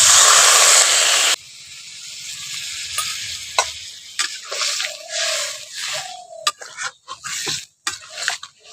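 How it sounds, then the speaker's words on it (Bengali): Water poured into a hot pan of yardlong beans and potatoes sets off a loud, dense hiss that cuts off abruptly, followed by softer bubbling, sputtering and stirring scrapes, close and with no talk. "এবার আমি পরিমাণ মতো জলটা দিয়ে দিচ্ছি। মশলা বাটার জলটা দিয়ে দিচ্ছি।"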